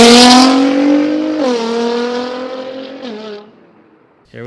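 A Nissan GT-R sports car with a misfiring engine revs hard and accelerates close by, its loud rising engine note climbing through two gear shifts before cutting off, then briefly picking up again at the end.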